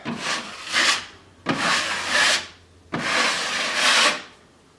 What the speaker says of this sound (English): So I can come back in with a little bit more drywall mud and just even it out with the rest of the drywall mud.